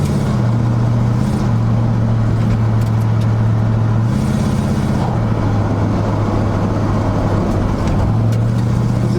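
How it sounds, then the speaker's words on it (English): A 1976 GMC Sprint drives along with a loud, steady engine drone heard from inside the cab, its pitch dropping and rising as the transmission shifts. "Transmission shifts out real good. Let's see what she downshifts."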